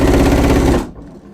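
A sewing machine stitches with a twin needle in one loud, steady, rapid rhythmic run lasting under a second, then stops abruptly, leaving quiet room tone.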